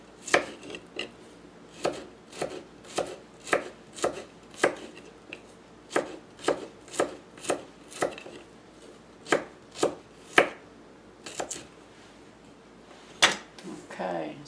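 A knife chops dandelion greens on a cutting board in a steady run of sharp, close knocks, about twenty strikes with short pauses between bursts and one gap near the end.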